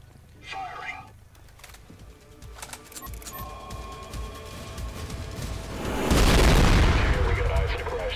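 Airstrike explosions in the video game Trepang2 build into a loud, rumbling boom that swells and sustains near the end, following scattered gunfire and game effects, with a voice talking over parts of it.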